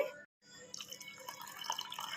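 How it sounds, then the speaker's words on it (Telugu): Water trickles and splashes softly into salted dosa batter after a brief silence, faint and close, with small dripping sounds. "కొంచెం వాటర్ వేసుకుందామండి."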